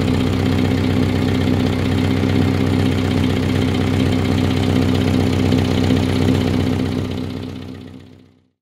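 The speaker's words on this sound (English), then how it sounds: "The exhaust was leaking when we put it up from the ramp" A Subaru Impreza idles with a cracked downpipe and leaking exhaust: a steady, rough, chuffing rumble held close and loud for several seconds, then fading out at the end.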